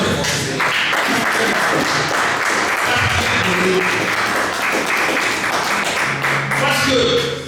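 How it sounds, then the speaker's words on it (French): A church congregation claps and cheers during a French-language sermon, a dense, steady wash of applause that holds for several seconds. "Acclamons très fort"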